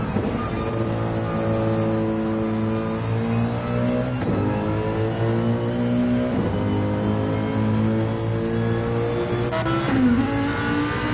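A Mercedes AMG GT3 race car at Goodwood in a racing video game holds a loud, close engine drone, with upshifts producing sharp pitch drops at regular intervals as the revs climb again.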